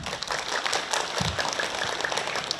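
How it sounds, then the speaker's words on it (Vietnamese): A room full of students clapping in applause at a school career-guidance session, a dense, steady patter of hands throughout. "Chúng ta cho bạn một tràng pháo tay."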